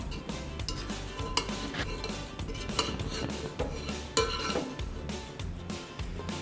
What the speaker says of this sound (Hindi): चावलों को अच्छी तरह मिक्स करें ऊपर नीचे